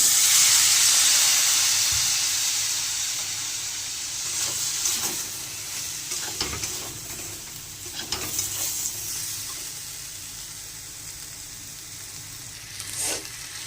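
Chilli and turmeric powder spices sizzle and fry in a pan with a splash of water, a steady hissing sizzle broken by scraping stirs and clinks, loudest at first and easing slightly over time.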